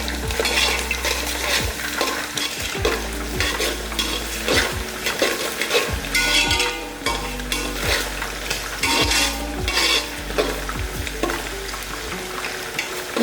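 Mutton pulao base of ingredients frying in a pan with salt added, a spoon stirring and scraping steadily against the metal over a continuous sizzle, close and loud with no talking.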